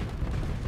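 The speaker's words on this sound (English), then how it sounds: "Ooh, there's an explosion." An explosion in the Starsector space combat game comes as a brief, muffled low boom and rumble, heard alone.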